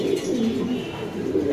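A white Raj Golla pigeon coos in low, rolling, repeated calls, close and loud, with faint background noise around it.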